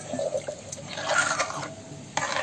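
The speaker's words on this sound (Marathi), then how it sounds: "परत आपण अर्धा कप पाणी टाकायचं त्याच्यामध्ये" Half a cup of water is poured into a thick flour batter for a dosa-style breakfast, a short close splash and gurgle that swells then drops off, ending with a brief sharper splash.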